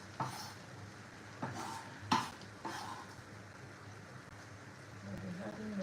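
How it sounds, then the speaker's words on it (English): Chopped onions added to a pot of yam pottage in a home kitchen, faint spoon scrapes and clinks against the pot in a few separate bursts over a soft sizzle, no voices. "I'll be adding my chopped onions."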